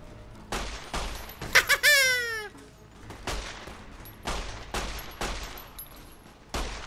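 Gunfire in Fallout New Vegas: a string of sharp, loud shots spaced irregularly across several seconds, with a brief high whooping voice-like cry between early shots and no speech.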